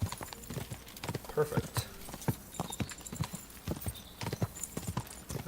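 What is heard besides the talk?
horse hooves clip-clopping while riding in video game Kingdom Come Deliverance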